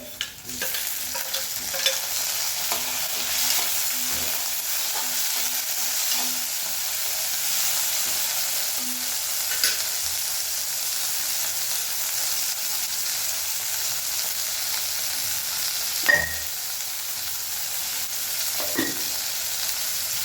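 Tomatoes sautéing in a pan for poori masala, a constant crackling sizzle with intermittent scrapes and taps of a spatula stirring, close and unbroken by any voice.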